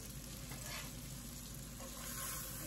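Oxtails browning in a hot pan give off a steady, dense sizzle and crackle, close and continuous, with no voices over it.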